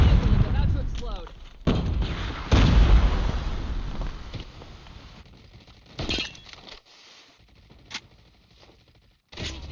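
A vehicle blows up in the Call of Duty Mobile video game with a heavy booming blast and shattering debris, loud at first and then fading into scattered clinks and distant gunshots.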